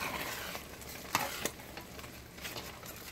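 Egusi-style soup being stirred in a pot on the stove, a soft continuous scraping swish with a faint bubbling sizzle underneath and a couple of sharper clinks of the spoon against the pot.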